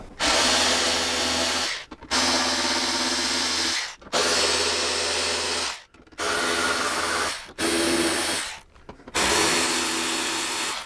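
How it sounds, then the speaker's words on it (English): Power drill backing out 4mm windshield screws from a motorcycle fairing on a Street Bob, five loud whirring bursts of about two seconds each separated by short pauses, close up with no talking. "we have 4mm windshield screws. We're going to go ahead and remove those."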